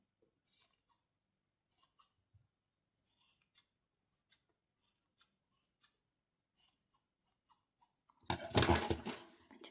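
Small scissors trim yarn ends to an even height on a handmade pompom, giving a string of light, sharp snips spaced irregularly over several seconds, followed by a sudden loud rustling burst at the end.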